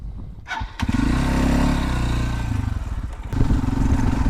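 A Loncin 250 Rally enduro motorcycle starts up in a forest, its engine catching into a loud, steady low rumble that throbs and revs slightly as it pulls away, near and close to the microphone.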